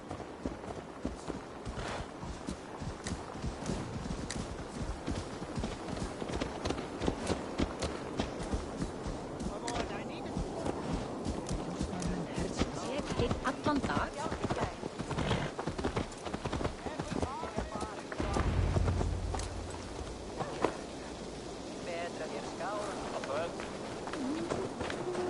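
Horse hooves clip-clop in Assassin's Creed Valhalla, a steady run of hoofbeats over continuous game ambience and music, with voices talking throughout.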